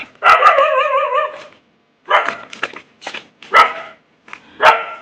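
A dog close by in a village orchard gives a long wavering whine or howl, then a run of sharp, loud barks in uneven bursts.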